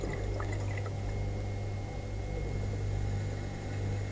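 Water is added to pottery clay, giving a steady wet trickling hiss that runs without pause over a low constant hum, with no talking.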